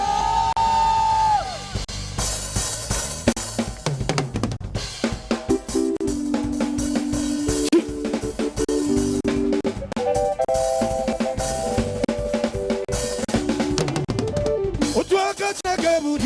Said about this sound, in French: pousse les cris de joie